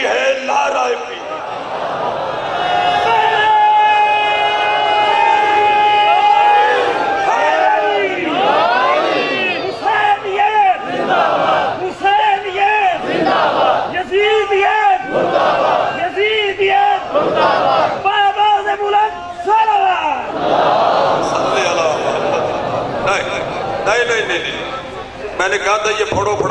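A large crowd at a 10 Muharram 2021 religious gathering in Rail Bazar, Burewala chants slogans in loud, rhythmic collective bursts, with brief pauses between the shouted call-and-response phrases.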